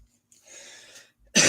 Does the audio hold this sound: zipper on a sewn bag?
no